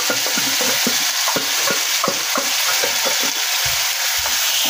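Ground masala paste frying in the oil left over from frying eggs, stirred steadily; close, continuous sizzle and crackle broken by repeated scraping strokes of a spoon against the pan.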